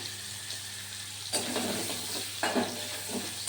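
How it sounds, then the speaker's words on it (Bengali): Grated coconut frying in oil with cumin seeds, a steady close sizzle broken by louder bursts of stirring and scraping around 1.3 and 2.5 seconds, no talking. "তেলের উপর নারকেলটা ভাজতে ভাজতে"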